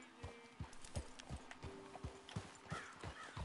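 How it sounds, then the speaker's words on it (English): Horse hooves clip-clop steadily at a walking pace in the Red Dead Redemption 2 video game, a regular rhythm of soft thuds with a faint whinny, moderately close beneath quiet game ambience. "That's a nice horse."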